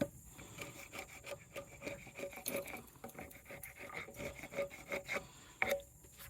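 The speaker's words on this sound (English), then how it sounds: "you clean that up with the chisel right there at your angle." A chisel pares and cleans up a cut in wood while building a well house, giving quiet, close, rhythmic scraping strokes with a few sharper clicks.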